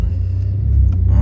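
A Chevrolet Vega engine rumbles loud and close, its low throb steadily building as if being revved, with no talking over it.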